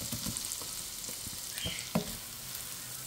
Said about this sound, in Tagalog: So, mainit ng ating pan, maglalagay tayo ng bawang. Then, next ko yung sibuyas at kamatis.